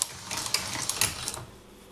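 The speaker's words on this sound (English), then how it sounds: "run that through the pasta machine till it is about 1/2 millimeter thick" Polymer clay is rolled through a hand-cranked pasta machine to about half a millimetre thick, giving a close run of rapid mechanical ticking and clicking that stops after a second and a half.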